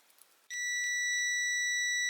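A multimeter on continuity test gives a single steady beep that starts abruptly and holds as one loud, continuous tone, with faint handling noise just before it.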